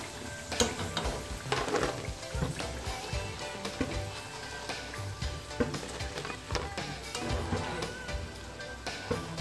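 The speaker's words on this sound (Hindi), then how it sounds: "ये हमारे आलू के पकोड़े अच्छे से फ्राई हो चुके हैं। अब इसे मैं बाहर निकालती हूँ पैन से।" Potato pakoras fry in a pan of hot oil for a potato kadhi dish, giving a steady crackling sizzle with stirring and utensil scrapes throughout, close and fairly loud.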